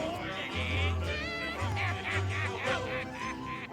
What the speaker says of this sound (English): what be I offered for these hearty hens? Every one an egg layer.